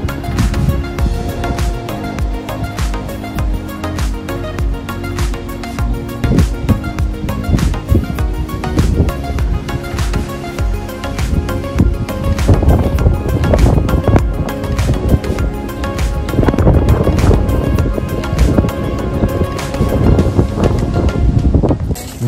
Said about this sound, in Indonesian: Di luar anginnya kencang banget, buas terus.